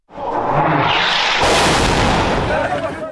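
A missile strike on a hospital in Gaza erupts in a single loud, close blast that swells into a long, rumbling roar and rolling debris noise, holding heavy for about three seconds.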